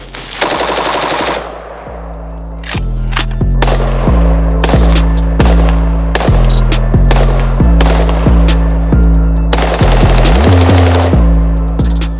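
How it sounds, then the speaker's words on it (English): Rapid automatic bursts from an FB Radom Beryl rifle fitted with an FRT trigger, loud and close, several long strings of fast shots with short gaps between them and ringing echoes after each burst. "that was an amazing day of shooting this FB Radom Beryl"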